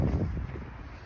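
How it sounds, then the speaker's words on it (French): Steady outdoor wind buffets the microphone with a low rumble throughout, close and fairly loud, with no other sounds over it. "On a un peu de vent donc je bouge."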